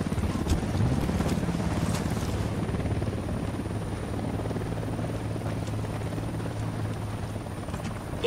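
Helicopter in the video game Ghost Recon Wildlands, set in Mexico, approaching with a steady low rotor drone and engine hum that holds at fairly constant loudness throughout, with no voices over it.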